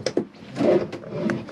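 The cutlery drawer of an Auto Trail Dakota motorhome being opened: a few short wooden knocks followed by a soft sliding rumble, close and moderately loud, with no talking.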